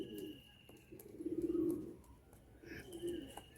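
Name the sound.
pigeons cooing in a loft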